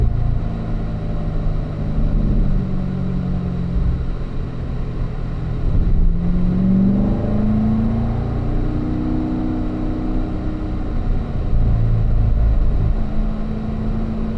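A car runs on a race track with a steady, loud in-cabin engine drone that rises in pitch as it accelerates, shifting through revs along the way with no voices.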